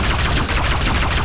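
Rapid continuous gunfire from shooting in Arma 3, a loud dense rattle filling the whole short stretch without pause.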